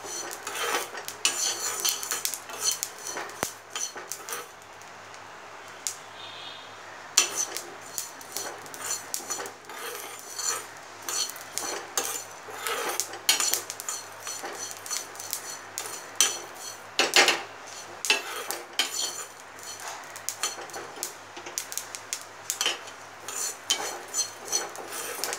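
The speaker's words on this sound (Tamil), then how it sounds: "படபடன்னு பொரியற சவுண்ட் கேட்குது" Dense, continuous crackling and popping of sesame seeds frying in a pan, a busy sizzling patter that never pauses.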